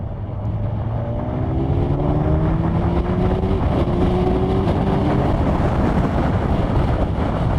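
A 2020 Kawasaki Ninja 1000SX pulling from 3,000 RPM in fourth gear, a loud steady engine drone rising gradually in pitch, heard close up under heavy wind rush with no talking.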